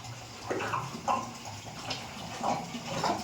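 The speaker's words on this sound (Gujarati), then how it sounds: "ગોરામાં પાણી ભરે" Water splashes and pours into a container in several short gushes, close and fairly soft, with small pauses between pours.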